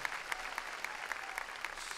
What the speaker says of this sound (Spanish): usted ya está aplaudiendo como de, alegría